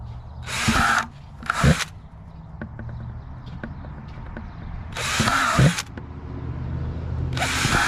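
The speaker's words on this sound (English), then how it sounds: "I'm basically gonna drill some holes all the way around in here." A power drill whirs in two short bursts, drilling drainage holes, pauses amid faint clicks, then whirs again in two more bursts, close by.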